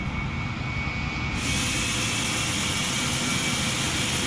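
A DC-9 jet engine spools up after start in a flight simulator, giving a steady, loud broadband roar with a thin whine that holds throughout and brightens slightly partway in.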